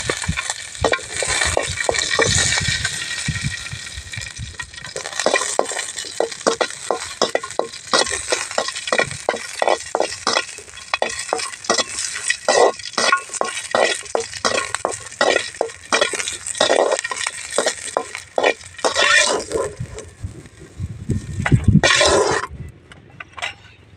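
Green chillies are fried in a pan for a village-style country chicken sambar, with a steady sizzle under repeated rhythmic scrapes and clinks of a spoon stirring against the metal, close and fairly loud throughout.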